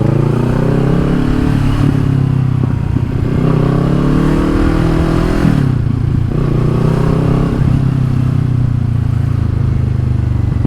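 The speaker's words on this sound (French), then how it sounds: "C'est pas un quad, c'est une moto à 4 roues." A four-wheeled motorcycle passes on the road, heard from a moving motorcycle's onboard camera: a loud, close engine drone with pitch sweeping up and down under rushing wind.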